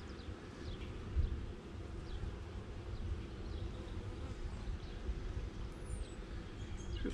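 Honey bees buzzing around hive frames while new colonies are inspected: a continuous, dense, low droning hum from many bees close by, steady throughout with no voices.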